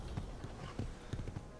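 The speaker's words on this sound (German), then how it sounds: "Wo ist mein Pferd hier?" Horse walking in Avatar: The Game, giving a quick series of close, soft hoof clops in an uneven rhythm over faint background ambience.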